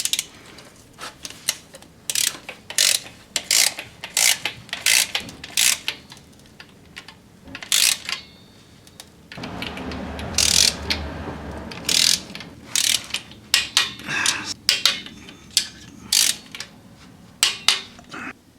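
A torque wrench ratchets transmission pan bolts down on a Chrysler PT Cruiser, working in a crisscross sequence: repeated sharp clicking bursts, close and clear, separated by short pauses.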